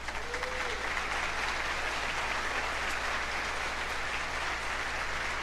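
Church congregation applauding during a sermon, a steady dense wash of clapping that stays loud and even throughout, with no voices rising above it.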